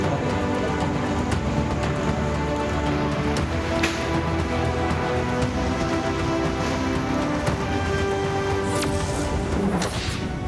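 Heavy monsoon rain pours down steadily during severe flooding, a dense continuous hiss of drops with occasional sharper splashes and knocks on hard surfaces, loud and close throughout with no voices.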